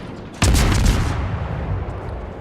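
A sudden loud boom of a naval gun salvo in a World of Warships battle, firing at a Cleveland cruiser, with a rumbling tail that lingers and slowly fades.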